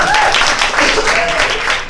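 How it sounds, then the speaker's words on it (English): Applause from a fan-event audience at New York Comic Con, dense and steady throughout a short stretch, mixed with crowd voices. "But give yourselves a round of applause."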